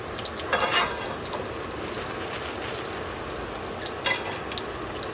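Chopped frozen onion sizzles steadily in a hot pan on a home stove, a constant crackling fry with two brief louder bursts of spitting as pieces are stirred, no talking.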